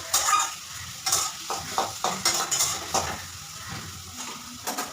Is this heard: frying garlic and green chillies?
yes